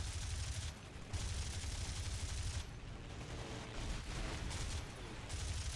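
Aircraft machine guns fire in War Thunder in dense, continuous bursts over a loud engine roar, with short gaps between the sustained strings of fire.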